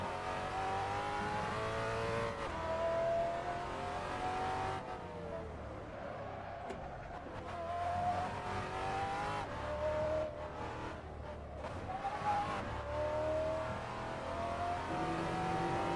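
A race car in the Assetto Corsa sim racing game drones steadily, its engine tone rising and falling as the throttle is blipped through gear changes. The sound is continuous at moderate loudness.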